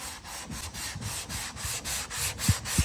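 Quick, rhythmic back-and-forth strokes of hand sanding a 1957 Ford Fairlane body panel, close and steady, with a couple of firmer strokes at the end.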